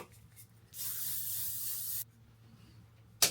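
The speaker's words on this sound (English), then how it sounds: "I'm gonna use some of this Sam McKnight hairspray." A single sustained burst of Sam McKnight hairspray hisses steadily for more than a second, close and fairly loud, followed by a short second puff.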